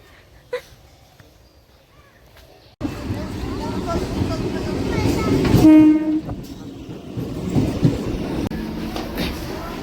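A Bongaon local train pulls into the station, a loud rumble of wheels and carriages rising abruptly after quieter ambience, with a short horn blast partway through and ongoing platform noise.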